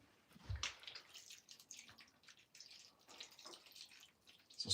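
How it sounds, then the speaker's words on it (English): Water is poured into a stew pot for deer heart stew in a cabin kitchen, a faint, uneven splashing and dripping stream lasting a few seconds, fairly quiet and with no voices over it. "So stew, we gotta put some water in here now too."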